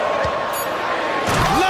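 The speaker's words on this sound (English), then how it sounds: "Levine slams it home." Offensive putback slam dunk in an e-basketball video game, a sharp slam thud rising over steady crowd noise and excited commentary.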